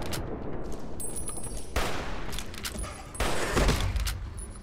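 Bursts of rapid gunfire aimed at a young deathclaw in Fallout: New Vegas, several dense volleys in a row with sharp cracks and booms, loud and close, with no talking.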